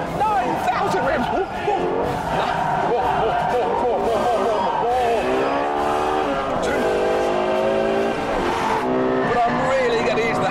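A normally aspirated 4.8-litre Lexus V10 revs hard toward 9,000 rpm, rising and falling in sweeping harmonic pitch as the car is driven, loud and continuous, with a voice talking over the engine.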